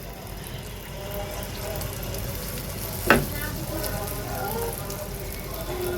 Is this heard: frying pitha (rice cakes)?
yes